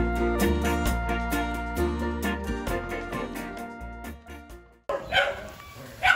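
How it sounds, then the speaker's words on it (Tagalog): A dog in a rural Philippine province gives a few short barks near the end, following a stretch of loud music that dominates the opening. "Lagi may aso pa, may aso."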